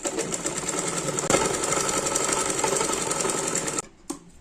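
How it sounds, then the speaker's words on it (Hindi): A sewing machine stitches a seam on a kurti, running as a loud, steady whir for nearly four seconds, then stopping abruptly with a faint click afterward. "इस साइड से सिलाई लगाएंगे। सिलाई लगा लेते हैं। एक सिलाई और लगा लेते हैं।"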